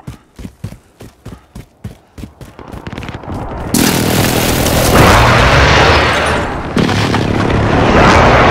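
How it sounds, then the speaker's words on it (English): Precision airstrike in Call of Duty: Modern Warfare multiplayer: a rapid run of sharp blasts, then a sustained heavy roar of rumbling explosions filling the rest, loud and close. "Friendly precision airstrike on the way."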